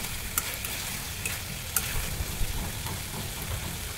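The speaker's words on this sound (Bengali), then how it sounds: "এই তো ঢাকা উঠিয়ে ফেলেছি, এখন আরও কিছুক্ষণ তেলের মধ্যে কষাবো। একটু পরপর নেড়ে দিতে হবে যাতে নিচে লেগে না যায়।" Beef frying in oil in a pot while being stirred, a steady close sizzle with scraping spoon strokes and occasional clinks, no voices.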